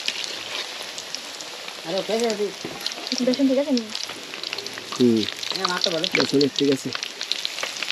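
Eggplant fritters (beguni chop) fry in hot oil with a steady, moderate sizzle, while someone talks over it for much of the time.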